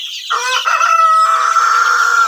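Egyptian Fayoumi chickens on a poultry farm in Taraganj, Rangpur, Bangladesh, with a loud, close rooster crow rising and holding over clucking hens.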